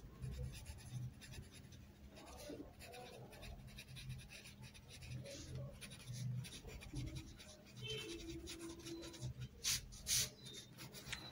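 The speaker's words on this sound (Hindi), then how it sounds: "पहले हम लिखेंगे जुबेर बाउट चॉकलेट" Pen or pencil scratching on paper while writing out a math sum, faint continuous scribbling strokes with a voice talking quietly over it.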